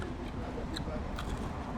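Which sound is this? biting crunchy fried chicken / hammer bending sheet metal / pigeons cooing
biting crunchy fried chicken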